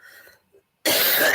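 A single hard cough bursts out close to the microphone after a moment of near silence, loud and rough, filling the rest of the moment.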